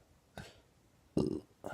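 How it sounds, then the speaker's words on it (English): Several short burps in a row: a faint one, then a louder, longer belch, then another starting at the end, each alone with quiet gaps between. "I feel like this every single time I burp."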